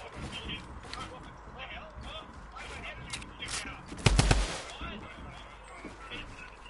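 Drum gun firing in the video game Fortnite: a short rapid burst of about four sharp, loud shots near the middle, set against steady in-game background noise with faint voices underneath.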